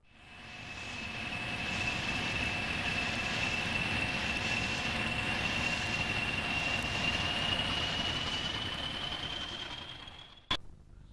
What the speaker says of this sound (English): train departing.